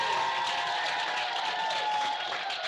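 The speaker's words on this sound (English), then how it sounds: "You didn't hear the applause? Let's do it again." An audience at a lunch keynote applauds, a steady wash of many hands clapping, moderately faint and continuous throughout.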